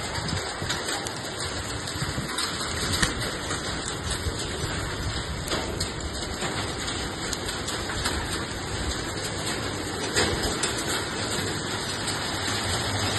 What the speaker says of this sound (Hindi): ये बर्फ पड़ रहे हैं, ओले, बारिश नहीं बर्फ पड़ रहे हैं।